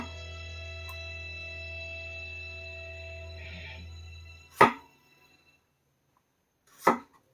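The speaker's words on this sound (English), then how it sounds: "Now let's do a few push cuts." A freshly sharpened Pacific Saw Works chef knife push-cuts through food, giving two sharp, separate chops against a quiet background after a fading hum.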